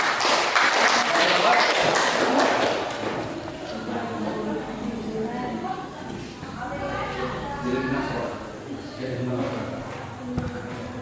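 Classroom applause from students fills the opening seconds, dense and close, then fades as a student begins speaking about a group conclusion.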